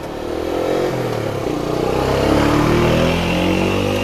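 A Toyota Corolla Altis 1.6 engine, suffering a random misfire, cranks on its starter with a loud, steady mechanical churn that holds for several seconds close to the microphone.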